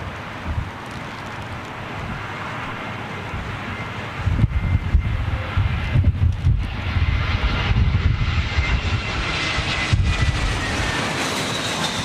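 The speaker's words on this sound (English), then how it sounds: "John Patrick Dowling, Emirates Heavy inbound 8 minutes." Emirates heavy jet airliner inbound, a steady low engine rumble with wind buffeting the microphone, swelling louder from about four seconds as the aircraft draws nearer.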